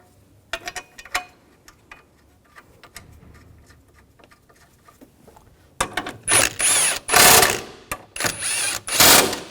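Bolts on a 2007-2013 BMW X5 3.0L cross member being run down with a power tool: scattered light ticks and clinks, then several loud close bursts of whirring driver spin-up.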